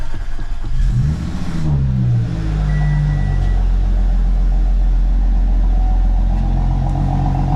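An Audi S4 with a Jackal Motorsports stage 2+ tune cranks and fires for its first start, catching with a rising rev before settling into a deep, loud, steady idle rumble close by.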